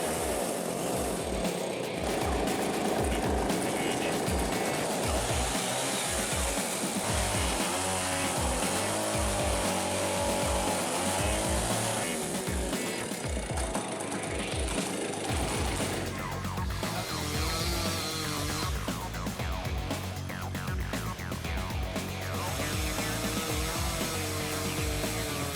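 A large firewood processor with a 47-inch blade cuts through wood in a loud, continuous mechanical roar, with rhythmic clanking and thumping from the machine and shifting tones as the blade bites through logs.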